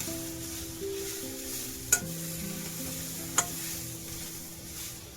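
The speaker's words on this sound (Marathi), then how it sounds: "मक्का आहे ना थोडं शिजत झाले दोन मिनटं काढून घेऊया आपण" Corn cooks in a pan with a low, steady sizzle close by, punctuated by two sharp metallic clinks a little over a second apart.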